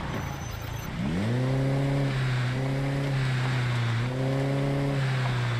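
A game car engine in Project Zomboid starts and runs loud and close, droning steadily while driving with a couple of gear-like shifts in pitch, no talk.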